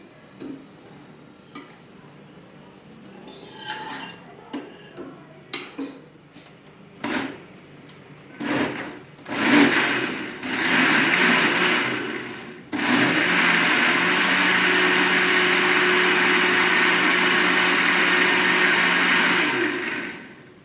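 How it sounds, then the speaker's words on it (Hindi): Mixer grinder jar grinding mustard greens for sarson ka saag, starting with scattered clicks and taps, then short bursts before a loud, steady whirring grind runs continuously to the end. "मैंने टाइम बचाने के लिए और मेहनत ज़्यादा ना लगे इसको जग में इस तरह पीस लिया है"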